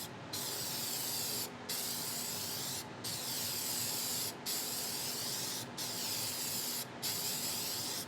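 Spray gun spraying black paint and spitting globs, loud continuous hissing bursts about a second long, broken by five brief pauses, close to the microphone with no talking.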